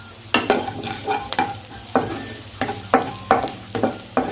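Curry leaves dropped into hot oil with cumin seeds, crackling and sizzling loudly in sharp bursts as they are stirred, close and without talk.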